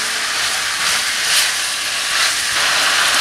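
Ginger hitting a hot pan while pork belly is braised, giving a steady, loud, close hiss of sizzling oil that swells slightly now and then, with no talk.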